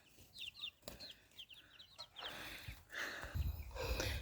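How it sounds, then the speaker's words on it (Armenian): Young chicks running about outdoors in the sun give quick high chirps and soft clucks close by, followed by louder rustling and scuffling noise. "ճտերը ման են գալիս իրանց համար, արևի տակ վազվզում, թշկոտում"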